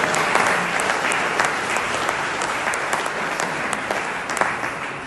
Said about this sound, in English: Can we have another round of applause for the incredible entertainment that we had tonight?